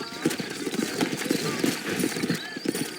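Steady rhythmic clip-clop of horse hooves trotting in the video game Red Dead Redemption, with a faint whinny and a voice talking over the hoofbeats.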